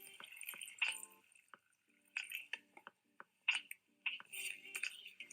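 Tomatoes being stirred in a glass of tap water, giving soft liquid swishes, drips and light clinks of a utensil against glass, close and quiet, in intermittent bursts with pauses between.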